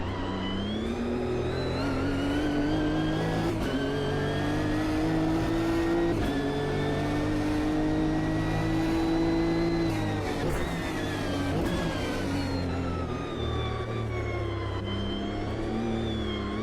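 A Nissan GT-R race car in the Automobilista sim racing game, its engine note droning loud and continuous, climbing and shifting pitch through gear changes and revs without any speech over it.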